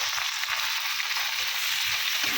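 Chopped onion and tomato hit hot oil in a pan while cooking stingray fish, producing a loud, dense, continuous sizzle with a faint stirring undertone, close and unbroken throughout.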